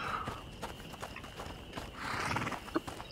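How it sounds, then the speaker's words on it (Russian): Horses in the video game A Plague Tale: Innocence, with hooves clip-clopping and shuffling and a whinny, close by in a barn, with ambient game sound and no talk. "Так, лошади, лошади."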